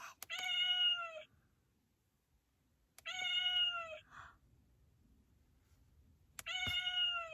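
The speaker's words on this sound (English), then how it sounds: "Feel the cat's ear to hear her meow" A toy cat in a children's pet book gives three separate electronic meows, each a clear, bright mew repeated at an even pace with quiet pauses between.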